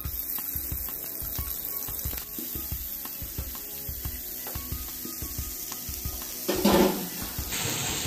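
Prawns fry in hot oil in a pan for an Odia prawn and potato curry, giving a steady close sizzle with rhythmic scraping and stirring knocks and a brief louder burst of spattering near the end.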